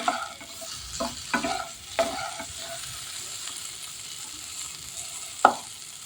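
Pumpkin stir-fries in a pan with a low steady sizzle, punctuated by a handful of scraping stirs early on and one sharp utensil knock near the end, heard up close without speech.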